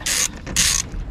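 A ratchet loosens a bolt on the under-engine cover of an Audi Q2 with a 1.4 TFSI engine, giving two close, crisp bursts of rapid clicking separated by a short pause.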